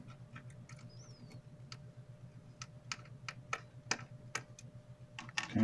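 Small screws being worked loose from the back cover of a TTGO T-Watch SIM868, a series of quiet, sparse clicks and ticks close by over a low hum, ending in a slightly louder scrape.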